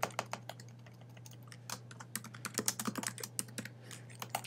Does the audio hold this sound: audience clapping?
no